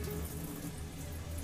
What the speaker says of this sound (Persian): آب برنج این آبی که اضافه روی اون هست خالی میکنم